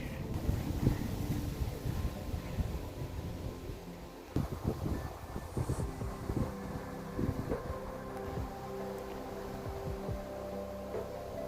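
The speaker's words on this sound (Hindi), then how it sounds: "देख रहे हो भयंकर कितनी तेज़ हवा चल रही है।" Steady buffeting wind roars across the microphone in a hill forest near Mukteshwar, Uttarakhand, with gusty low rumbles and a faint humming tone throughout.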